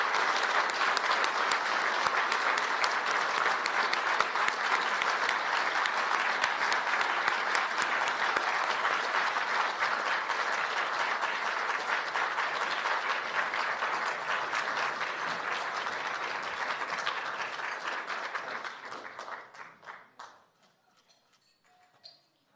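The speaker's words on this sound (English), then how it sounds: "Please let's give a big round of applause to our 2022 International Obashan honoree" A room full of journalists gives a long, sustained round of applause for an international honoree at an evening awards event, dense clapping holding steady for about twenty seconds before tapering off to a few last claps.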